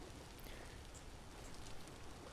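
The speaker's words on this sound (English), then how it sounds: "It's been raining for several days in a row in game here." Faint, continuous rainfall from a multi-day downpour in the Vintage Story video game, a soft steady patter and hiss heard on its own at low volume.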